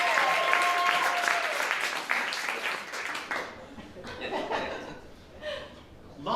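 An audience applauds with scattered chuckles for a few seconds, then the clapping fades as a voice starts talking.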